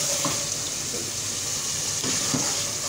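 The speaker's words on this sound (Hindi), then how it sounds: "ये देखें ये गोश्त भुन रहा है" Mutton browns in a pan for chana dal gosht, giving a steady, close crackling sizzle with a few faint soft knocks from stirring.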